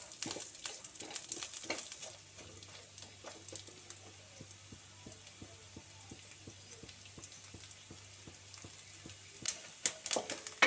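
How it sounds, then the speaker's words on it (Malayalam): Finely chopped coconut pieces frying in ghee give a faint, soft sizzle, with a long run of light, regular tapping and stirring clicks from a spoon in the pan. "ഒരു സ്പൂൺ നെയ്യ് ഒഴിച്ച് നമ്മളിതിൽ കുറച്ച് തേങ്ങ കൊത്ത് വറുത്തെടുക്കുകയാണ് ചെയ്യുന്നത്"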